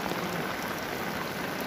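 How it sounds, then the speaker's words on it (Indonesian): Heavy rain pours down steadily over a cabbage and carrot farm in the hills of Garut, Indonesia, a dense, loud, even hiss that fills the whole short stretch without any voices. "hujannya sangat lebat sekali ya teman-teman"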